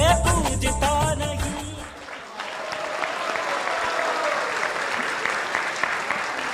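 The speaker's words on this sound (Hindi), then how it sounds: "अब की बार तो बिना कहे ही आपने तालियां बजा दी" An audience applauds at a Guru Purnima devotional music gathering, sustained dense clapping rising as the song's final notes fade, loud and steady throughout.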